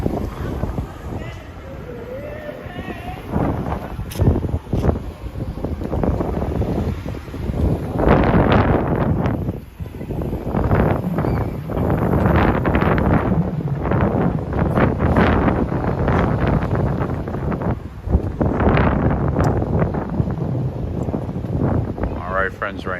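Gusty wind buffets the microphone on a rush-hour street walk in Harlem, New York City, loud rumbling bursts rising and falling throughout, with a person talking at times.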